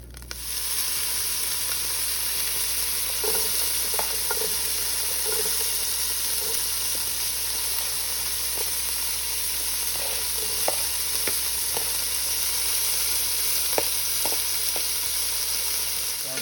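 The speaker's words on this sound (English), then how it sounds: "We're gonna add our carrots, celery, and onions, and let that soak up some of that flavor." Carrots, celery and onions sauté in a beef stew pan with a steady, bright sizzle. Occasional sharp clicks and scrapes of a utensil stirring sound close by throughout.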